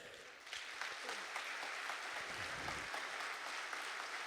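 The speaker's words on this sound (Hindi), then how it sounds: "वैसे 30 सेकंड ताली बजा लो बस।" Audience in a school or coaching hall clapping together on cue, a dense, steady wash of applause that swells in after a brief quiet start and holds at an even level throughout.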